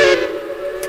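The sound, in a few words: Ashton 3 chime steam locomotive whistle in video game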